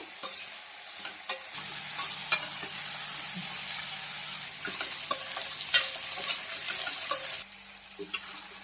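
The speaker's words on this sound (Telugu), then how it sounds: "ఆయిల్లో కొంచెం కొంచెం ఫ్రై అవుతూ కలర్ చేంజ్ అవుతుంది" Whole spices frying in hot oil in a pan for an ivy gourd masala curry, a continuous gentle sizzle broken by repeated scraping stirs and light clinks, close and alone without voices.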